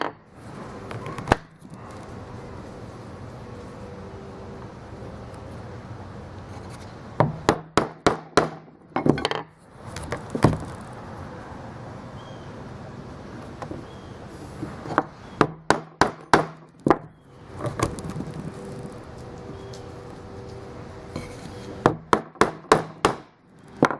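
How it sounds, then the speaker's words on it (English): A hammer punches holes in leather banding in rapid clusters of sharp, close strikes, four to six blows at a time, separated by quieter pauses of handling. "Again, this is a lot of holes to punch, so I'm going through quite a bit of wax."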